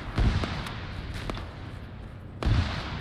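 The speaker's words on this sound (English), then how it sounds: "by those giant explosions!" Two deep booming blasts, one at the start and another near the end, with a low rumbling wash between them, distant and heavy.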